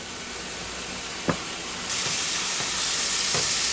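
Cooked hamburger meat sizzles in a pan full of grease, a steady broadband hiss that grows louder midway, with a few faint scraping clicks.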